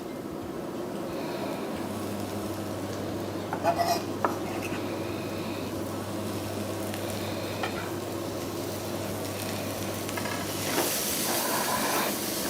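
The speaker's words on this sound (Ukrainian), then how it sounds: "Цибуля трохи присмажилась, додаємо перець." Bell pepper goes into a frying pan of lightly browned onion for a catfish meatball dish in tomato salsa, with a steady sizzle and hiss, a few clinks of utensil against the pan and stirring, and no talking.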